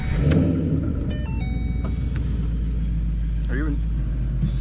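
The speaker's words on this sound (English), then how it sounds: "Inch and 7/8 headers. Inch and 7/8 headers. High flow X, Roush over axle pipes, and Roush mufflers. It's pretty rowdy." Ford Mustang S197 with 1-7/8 inch headers, high-flow X-pipe, Roush over-axle pipes and Roush mufflers, giving a steady deep exhaust rumble throughout, with people talking over it and a brief electronic chirp.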